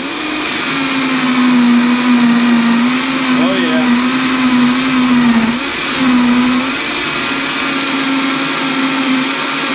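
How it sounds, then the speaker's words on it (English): A Vitamix blender whirs loud and steady while blending a ginger recipe, with its motor pitch dipping and recovering as the contents churn, running close up for the whole stretch. "Okay, come on over to the Vitamix."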